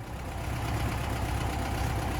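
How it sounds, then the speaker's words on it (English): A Volkswagen Type 3 Fastback with old Solex carburetors idles with a steady, even, throaty rumble, close and alone. "idling away. That lovely Volkswagen sound."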